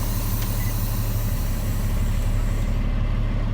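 A 2016 Kenworth T370 tow truck with a 350 HP Paccar PX diesel engine runs steadily, a continuous low engine rumble at a constant level with no talking.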